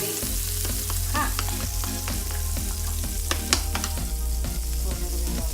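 Cinnamon pancake batter frying in an already hot pan, a loud continuous sizzle with low hum and scattered crackles and clicks throughout, close up.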